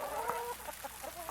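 A hen clucks in a coop, making several short, soft, close clucks in an uneven rhythm over a quiet background.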